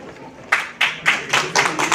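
A few sharp, separate claps ring out in quick succession from an audience at an award ceremony in Hotel The Lalit, close and fairly loud.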